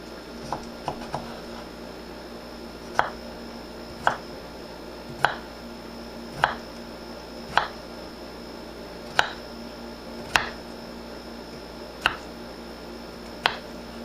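Potatoes being cut for home fries, a series of sharp isolated knife-on-board chops at irregular intervals of a second or two, fairly close, with a quiet background hum.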